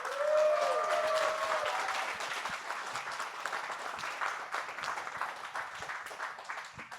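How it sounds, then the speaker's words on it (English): Applause from an audience at a film pitch final, dense and steady clapping that starts at full strength and gradually thins out, with a few faint whistles near the start. "please give a big round of applause to SORYA."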